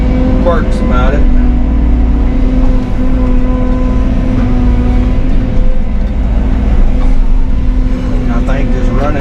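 A low, steady engine drone from an off-road dump truck running continuously close by, with a constant hum and faint higher tones over it and no change in pace.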